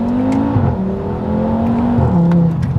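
A Stage 2 tuned 2013 Audi RS3's engine droning loudly as it accelerates, a steady strong tone rising through a gear change up close.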